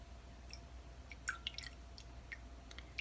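Rose water drips in soft, scattered droplets, several small close-up patters and splashes over a quiet, faintly humming background.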